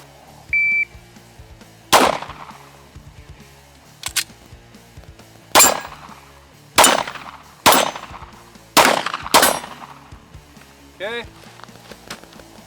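A pistol fires six sharp, loud shots at a target in an uneven string, each crack followed by a brief echo, with short electronic beeps and quiet sounds between shots.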